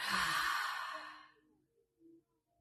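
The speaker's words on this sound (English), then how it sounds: "we are going to do some 3 deep breaths. We're going to breathe in, and we are going to breathe out." One deep, audible breath out during a mindful stretching class, a long, close, breathy exhale that fades away, followed by a faint soft sound.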